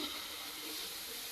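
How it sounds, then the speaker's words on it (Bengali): A ladle of flour batter poured into a hot, oil-brushed kadai sets off a steady, close hiss of sizzling that holds evenly for a moment. "কড়াইয়ের মধ্যে আমি এক হাতা ময়দা দিয়ে দিচ্ছি"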